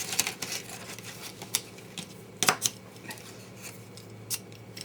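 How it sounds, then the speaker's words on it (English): Scissors cut excess tabs off a paper treat box, giving a few sharp snips and rustles against a steady low background hum with no talking. "I'm going to cut that piece off, this piece off"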